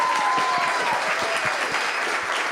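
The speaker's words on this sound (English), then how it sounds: "Can you also give a huge round of applause to these amazing bosses" An audience at a Nerd Nite talk event claps in steady, dense applause that holds at an even, loud level for a couple of seconds without any talking.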